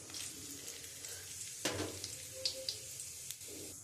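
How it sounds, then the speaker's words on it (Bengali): Bay leaves, dried red chillies, whole garam masala and cumin sizzle in hot oil in a kadai for a mutton curry, giving a steady frying hiss with a few sharper crackles and light clinks throughout. "আমি এর মধ্যে ফোড়ন দিচ্ছি তেজপাতা, শুকনো লঙ্কা আর গোটা গরম মশলা,"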